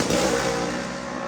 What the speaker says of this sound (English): race bikes get warmed up